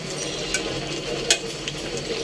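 Potatoes frying in a pan on a home stove, a continuous soft sizzle broken by a few small ticks and clinks as the pieces are stirred, close and fairly quiet.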